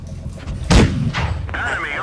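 Tank cannon firing in a video game, a tank with a pizza theme on wheels: one loud booming shot that rings and trails off, with game sounds and a voice talking under and after it.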